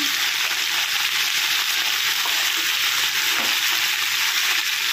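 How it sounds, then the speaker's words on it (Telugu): Sambar tempering with bottle gourd, curry leaves, mint and turmeric sizzles loudly and steadily in hot oil, a dense continuous frying hiss close up with a faint stir, no talking. "ఇవైతే తాలింపు వేసేసాం."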